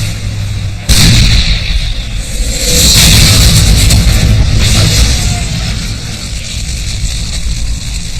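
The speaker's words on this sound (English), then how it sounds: "And that other tank fired" A tank cannon fires in a Pacific battle, one sudden loud boom that rolls into a long heavy rumble and roar, close and filling the scene.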